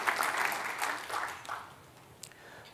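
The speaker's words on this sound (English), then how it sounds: "just join me in giving them a round of applause of our appreciation" Applause rises from an audience at a medical lecture, strong at first and then thinning out to a few scattered claps before it dies away.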